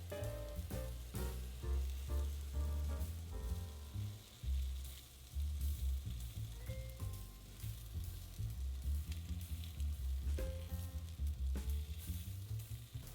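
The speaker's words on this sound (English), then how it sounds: "To cook evenly, I like to press down using a spatula." Malaysian-style satay chicken sizzling in a pan while pressed down with a spatula, a fairly quiet, crackling fry under repeated low thumps and scrapes from the spatula, with no speech.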